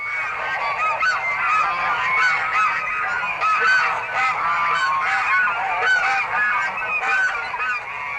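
A flock of Canada geese honks in a continuous, dense chorus of overlapping calls, loud and close, with no talk.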